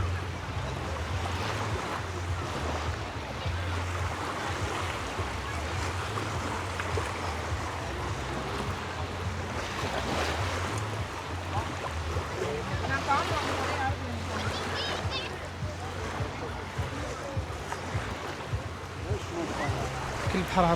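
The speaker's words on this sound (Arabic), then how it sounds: "غنخليكم تصنتوا الموج ديال البحر" Sea waves washing onto a beach in Albania, a continuous broad rushing surf with wind noise, steady and close, with some talking mixed in.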